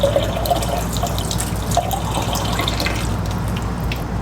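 Coolant leaking from an MG Midget and dripping onto the floor, heard as close, loud, continuous liquid trickling with a few distinct drips, no talking.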